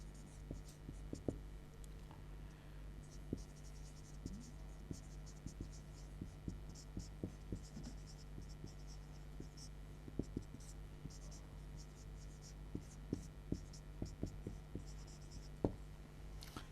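A pen scratching across paper while math is worked out in a class eight lesson: a steady scratchy writing sound with sharp ticks and taps, steady and close, set against a constant low hum.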